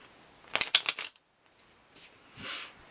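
A deck of tarot cards being shuffled: a quick riffling burst of flicking cards, a pause, then two softer, shorter shuffles, close by and fairly quiet with no voices.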